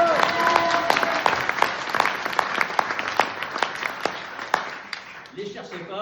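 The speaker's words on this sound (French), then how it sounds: "Vous pouvez les applaudir, ils sont dans la salle." Scattered audience applause in a theatre during a French stage show, distinct claps rising and thinning over several seconds, with voices and music underneath and a voice coming in near the end.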